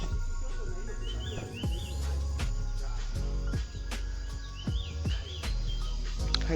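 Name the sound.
birds chirping in the background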